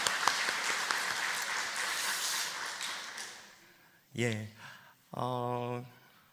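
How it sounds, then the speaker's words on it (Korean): Church congregation applause during a Korean Sunday afternoon service, a warm round of clapping that fades out after about three seconds. A voice follows, speaking over the quiet room. "격려의 박수 하겠습니다"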